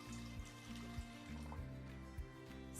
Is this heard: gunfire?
no